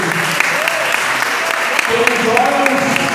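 Congregation applauding during a church healing service, a continuous wash of clapping with voices and some speaking or singing layered over it.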